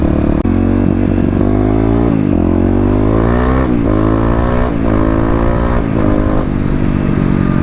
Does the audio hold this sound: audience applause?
no